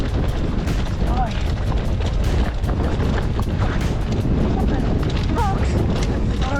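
Strong wind buffets the microphone in a loud, continuous roar during a mountain bike descent in the ranges near Exmouth, Western Australia, with brief shouted voices over it.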